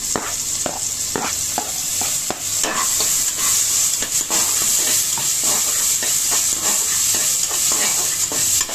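Onions fry in a pan with a loud, continuous sizzle and hiss, broken by frequent scraping stirs close by.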